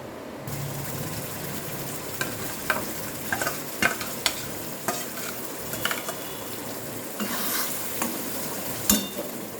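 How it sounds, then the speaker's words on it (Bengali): Spice paste hits hot mustard oil in a kadai and fries with a loud, steady sizzle, broken by scattered clinks and scrapes of a spoon against the pan. "এখন এই তেলের মধ্যে আমি এই পেস্টটা দিয়ে দেব।"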